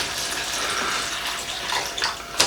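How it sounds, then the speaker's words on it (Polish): Water pours into a food ration pack in a steady splashing stream, close and moderately loud, trickling unevenly toward the end and ending with a sharp rustle. "najpierw to trzeba tutaj wody nalać, Kuba"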